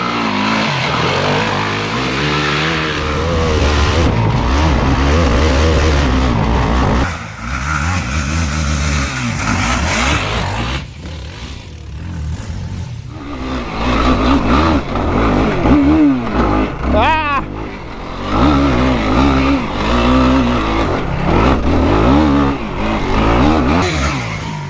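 ATV quad engine revving hard on a root-covered hill climb, loud and close throughout, with an uneven downshift and a short dip in revs before it picks back up.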